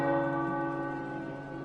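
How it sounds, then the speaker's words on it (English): Tower bells ring in Marvel's Midnight Suns video game, a single loud, rich bell chord with long sustained overtones that slowly decays. "The tower bells are ringing."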